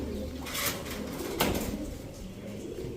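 Pet pigeons, including a red Danish pair, coo softly nearby while being packed for delivery. The cooing is faint and runs under handling noise and a bump or two.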